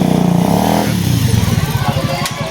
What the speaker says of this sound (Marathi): ह्या काळ्या घोड्यावरून आम्ही आलो आहे विराजची बाईक आहे